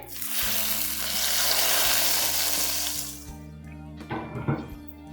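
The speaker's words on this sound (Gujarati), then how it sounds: "આપણે એના ઉપર ગરમ તેલ એડ કરી દઈએ" Hot oil poured over chilli garlic idli bursts into a loud, hissing sizzle for about three seconds, then fades to quieter crackles over a low steady hum.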